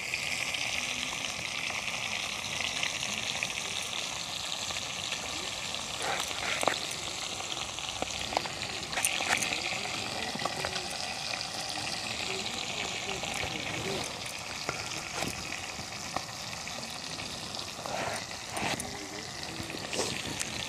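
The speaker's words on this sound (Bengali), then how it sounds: "একদিকে মাছ ভাজা হচ্ছে আর একদিকে কাটাকুটোর কাজ চলছে।" Sea fish, laufali, frying in oil in a home kitchen while brinjals are chopped nearby, giving a steady continuous sizzle throughout with occasional knife taps and handling clicks over it.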